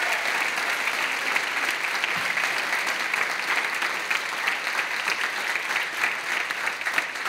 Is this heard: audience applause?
yes